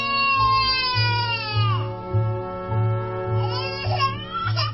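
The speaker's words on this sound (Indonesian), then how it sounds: "aku mendengar suara tangisan adikku yang masih balita" Toddler crying as a sound effect in an Indonesian horror radio drama: a loud, drawn-out wailing cry with pitch sliding down, then a second whimpering wail, over a low droning hum.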